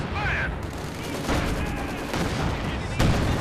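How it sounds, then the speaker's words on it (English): Machine gun bursts and scattered gunfire in the World War II strategy game Company of Heroes 2, a dense crackling battle mix with louder shots near the end and speech faintly audible. "Other machine guns covering that flank."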